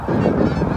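A child imitates geese honking with the voice, one loud, continuous nasal call lasting under a second and heard alone.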